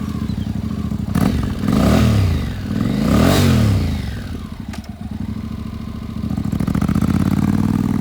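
Engine of a used 2013 Honda NC700X DCT ABS automatic-transmission sport motorcycle running nearby, loud and close, with two rising-and-falling revs early, then settling into a steady throbbing idle.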